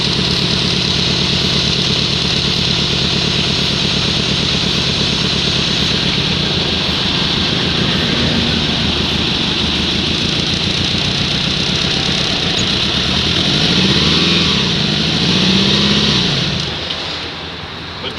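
Engine of a Kia Magentis car idling steadily, recorded up close during a pre-maintenance check, loud and continuous for most of the clip before easing off near the end, with faint voices in the background.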